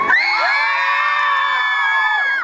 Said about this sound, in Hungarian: egy hatalmas sikítást kérhetnék